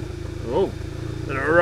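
A VW Golf 7.5 R running on E85 fuel idles roughly just after a cold start, with a low, steady, pulsing engine note. Excited voices exclaim briefly over it.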